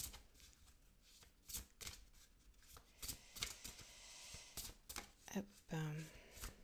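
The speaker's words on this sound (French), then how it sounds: "On va tirer une carte donc de l'oracle slave." Cards from an oracle deck are shuffled and drawn in quick rustling, snapping flicks, close and soft, interrupted by a person speaking near the end.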